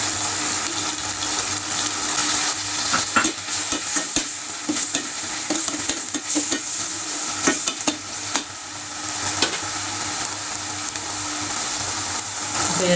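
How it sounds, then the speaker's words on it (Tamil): Tomatoes with coriander and mint sautéing in a pan for vegetable biryani, a steady close sizzle with frequent clicking and scraping stirs throughout, no voices. "தக்காளி நல்லா வதங்கட்டும்."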